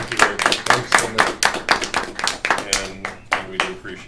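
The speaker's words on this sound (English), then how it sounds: "A round of applause." A small group at a county board meeting gives a short round of applause, with quick, close hand claps for about four seconds, mixed with some voices in the room.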